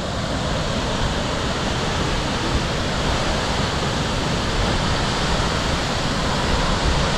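A large waterfall pours nonstop in a steady, loud broadband roar that fills the whole stretch without pause, heard up close at a canyon trail stop.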